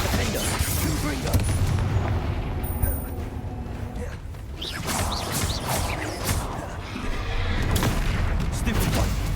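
Confringo spell explosions in Hogwarts Legacy boom and crackle in dense bursts over loud continuous game noise, with overlapping blasts throughout.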